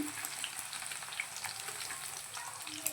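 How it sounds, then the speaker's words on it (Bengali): Paneer frying in a pan gives a steady, close sizzle with crackling spatters throughout, heard on its own with no voices. "এখানে দেখো পনির ভাজছি"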